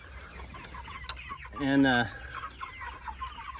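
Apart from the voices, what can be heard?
broiler chickens clucking in pasture tractor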